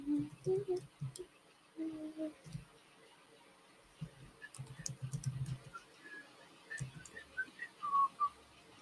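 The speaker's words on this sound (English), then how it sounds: "Did you just whistle" A person whistles a few faint, short, high notes near the end, over quiet background talk and light clicking.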